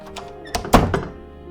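A front door thuds shut in a quiet home, a single solid knock with a brief rattle after it, close and fairly loud with no talking.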